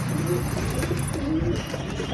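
Soft, low pigeon coos repeat a few times, close by, over a steady background hum.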